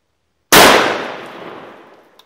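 A single loud, close shotgun blast from a Mossberg 500 loaded with number 8 birdshot, a sharp crack with a long decaying echo tail and a faint click at the end.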